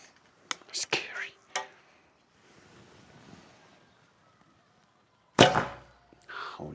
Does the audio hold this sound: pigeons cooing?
no